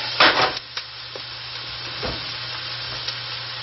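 Burgers frying in a pan, a steady soft sizzle with a few louder stirring scrapes near the start, no talk over it.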